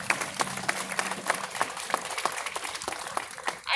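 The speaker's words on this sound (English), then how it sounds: "Give them a round of applause" Scattered applause from an outdoor crowd at a mall demolition ceremony, with individual claps standing out distinctly over a thin wash of clapping, moderately loud and without speech.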